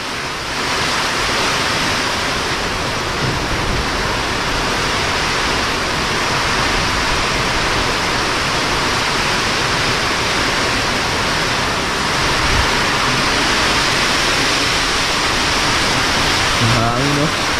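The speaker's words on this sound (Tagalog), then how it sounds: "Hangin no." Strong wind from Typhoon Tino roars outdoors in a loud, unbroken rush. It holds nearly steady for the whole stretch, with slight swells in intensity.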